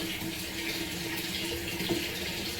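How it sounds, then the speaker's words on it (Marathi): Water running steadily from a tap to fill a container at home, a continuous close rushing flow with no voices over it. "चांगलं पाणी भर"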